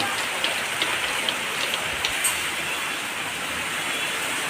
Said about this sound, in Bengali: ঠান্ডা বৃষ্টি পড়ছে খুব জোরে বৃষ্টি পড়ছে এখানে